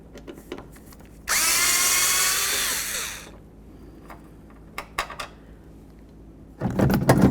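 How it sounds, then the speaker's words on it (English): A power drill with a Torx 25 bit backs out a bolt during a window regulator replacement on a 2008-2012 Jeep Liberty, one loud whirring burst of about two seconds, then a few clicks and a second brief whir. "We're going to remove this bolt. It's a Torx Bit 25."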